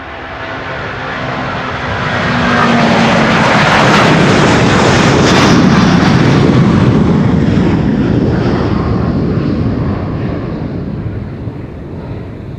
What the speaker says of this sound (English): This is American Airlines Flight 221 to Dallas-Fort Worth, Texas. It is a